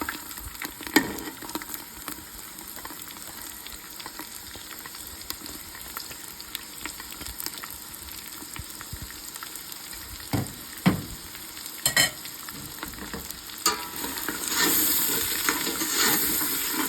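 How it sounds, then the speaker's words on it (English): Onions and celery brown in a stew pot after beef has been seared, giving a soft continuous sizzle with occasional stirring scrapes and clicks, rising somewhat louder near the end; no talking. "I'm now going to add in my onions and celery and brown those as well."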